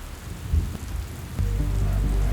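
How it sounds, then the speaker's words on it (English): Heavy rain falling steadily as a broad wash of noise, with a low rumble that swells and stays strong in the second half, loud and without voices. "as rain kept falling"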